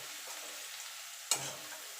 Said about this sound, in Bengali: রসুনটা একটুখানি ভাজা ভাজা করে নেব।